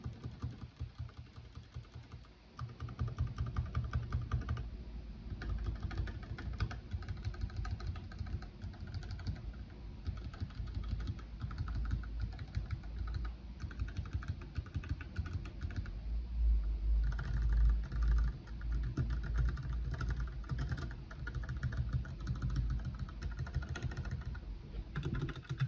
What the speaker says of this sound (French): La touche entrée.